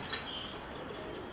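Pigeons returning to their loft, with wing flapping and soft cooing close by in an outdoor setting, a steady bird-filled background throughout.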